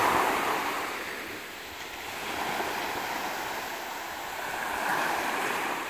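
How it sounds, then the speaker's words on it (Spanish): Calm sea waves at a beach in Honduras, a soft continuous wash of surf swelling and easing in gentle rolls, with light wind noise and no voices. "A esta hora el mar está mansito."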